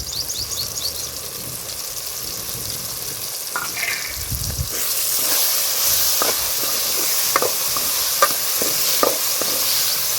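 Tomato pulao sizzles steadily in a pan as fresh coriander is added, with scraping stir strokes and a brief thud over the continuous frying hiss, growing louder partway through.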